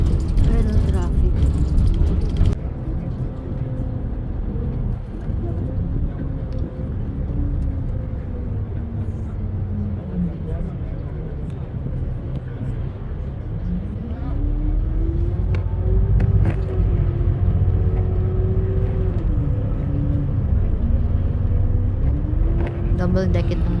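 Riding on the upper deck of a double-decker bus in traffic near Niagara Falls, a continuous low engine rumble rises and falls with gear changes, while voices talk over it.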